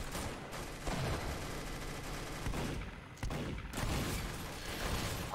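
Rapid pistol gunfire in a Roblox game, with bursts of sharp shots crackling almost continuously, broken by a brief pause midway, loud and close with no talking.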